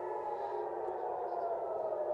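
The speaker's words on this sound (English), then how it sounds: "the sirens are now wailing over Tel Aviv, indicating that another missile is inbound" Air raid sirens wail over Tel Aviv as a missile comes in, a steady, sustained distant tone that holds throughout, with a faint voice underneath.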